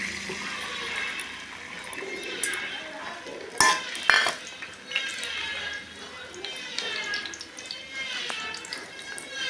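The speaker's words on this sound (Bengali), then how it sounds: "তোমার এই তাওয়ার মধ্যে ডিমটা ছেড়ে দেব" Egg dropped onto a hot tawa griddle, soft sizzle and kitchen clatter with a sharp metallic clink or two near the middle, then a lighter frying hiss continuing close by.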